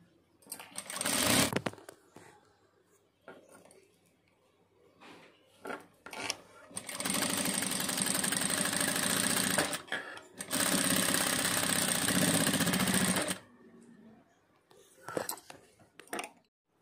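A sewing machine stitching piping onto a sleeve, running in two long, steady, loud whirring bursts with a shorter one before them, handling noises and someone talking in the gaps between runs.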